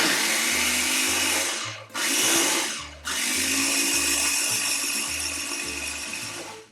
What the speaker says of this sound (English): So just place a couple of cups worth into a food processor and process them until